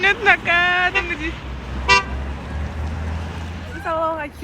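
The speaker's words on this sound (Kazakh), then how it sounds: "Автобустан түскеннен кейін автобус бізге бипылдасып кетті." City bus in Astana sounding its horn at students who just got off, several loud toots in short bursts, some doubled, near and clear over street noise and voices talking.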